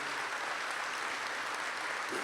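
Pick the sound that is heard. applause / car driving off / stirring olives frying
applause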